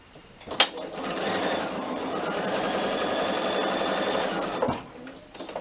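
A sewing machine stitching a small batik wallet runs in one steady, rapid burst of about four seconds, starting and stopping with a click.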